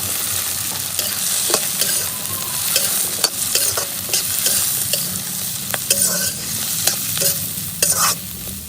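Steady sizzling of green chillies, garlic, ginger and onion frying in a hot pan, with occasional scrapes and taps of a spoon stirring, close and continuous.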